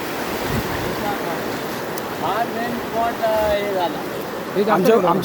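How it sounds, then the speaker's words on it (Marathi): Floodwater surges with full force across a blocked road in a steady, loud, broadband roar, with faint voices briefly audible over the rush. "पाणी एकदम फुल फोर्सने चाललं आहे"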